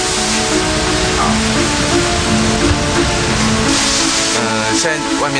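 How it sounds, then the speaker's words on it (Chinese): Heavy rain pours outside in a steady, dense wash of noise that fills the whole clip, with faint tonal music-like lines underneath. "现在外面在下大雨"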